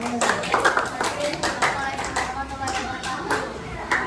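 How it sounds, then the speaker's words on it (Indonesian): Classroom applause for a student group, a few seconds of scattered hand claps at moderate level mixed with voices chatting over it. "tepuk tangan untuk kelompok 5"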